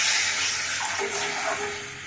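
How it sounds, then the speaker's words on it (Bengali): Paneer water is poured into a cooking masala gravy, a short, continuous splashing gush of liquid heard close up with no talk. "এবার পনিরের জলটা ওর মধ্যে আমি দিয়ে দেবো।"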